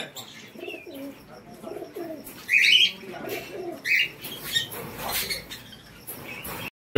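Giribaz pigeons kept as a breeding pair coo in a loft, soft repeated low calls near the mic with a few sharper chirps and brief wing or cage rustles, no voices.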